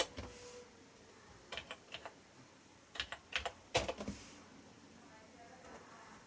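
Keys are pressed on the keyboard of a vintage TRS-80 laptop with some unresponsive keys, giving scattered clicks in small bursts over a faint hiss, fairly close and quiet.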